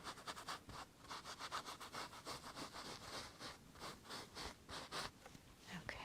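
A stencil brush scrubs ink onto a stenciled holiday card, a quick, steady, close rhythm of scratchy rubbing strokes that goes on without pause.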